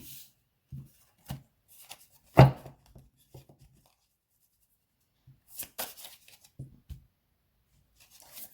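Tarot cards are shuffled and slapped down in short bursts, soft riffles and taps with quiet pauses between, close and alone.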